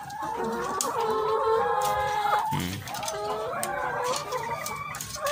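Free-range laying hens in a simple open farm pen cluck and call continuously at close range, with overlapping drawn-out squawks and a brief lower sound midway.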